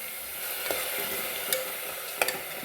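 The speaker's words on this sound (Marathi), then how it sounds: "आता कांदा परततोय" Onion paste sautés in a pressure cooker for a rajma masala, a steady soft sizzle with a few sharp scraping stirs breaking through; no one speaks.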